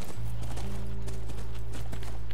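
Horse hooves clip-clop in The Last of Us, a steady walking rhythm of soft knocks close by over a constant low engine-like hum, with no talking.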